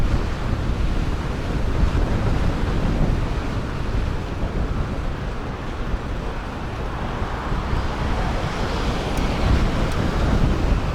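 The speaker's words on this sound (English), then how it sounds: "That is breezy." Strong wind on Spy Mountain in Berlin roars and buffets the microphone in a steady, loud, broadband rush that continues without a break and with no voices.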